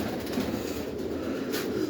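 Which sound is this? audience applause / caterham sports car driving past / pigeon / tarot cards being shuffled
pigeon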